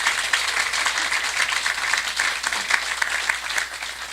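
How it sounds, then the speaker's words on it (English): A rail agency's rebrand gathering breaks into loud, sustained applause for its staff, many hands clapping in a dense, continuous wash at close range. "we just give the staff an amazing applause for all the things that they've done."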